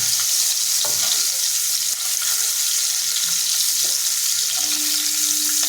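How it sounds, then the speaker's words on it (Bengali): Eggs fry lightly in a pan with a steady high sizzle and crackle, while occasional scraping stirs sound beneath it. "হালকা করে ভাজবো, খুব কড়া ভাজা হবে না ডিম।"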